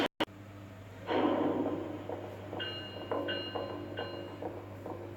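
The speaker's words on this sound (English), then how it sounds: "Train number 5100, loco number CM333." Freight train hauled by locomotive CM333 rumbles with a steady low hum, then a louder rushing passage and a series of rhythmic clanks and faint tonal squeals from the wagons at moderate distance, with no voices.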